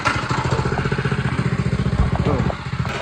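Small go-kart engine running right after the ignition is switched on, a close, rapid and steady putter of low pulses throughout.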